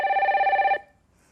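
A telephone bell rings for an incoming call, one loud steady electronic trill lasting under a second before cutting off into near silence.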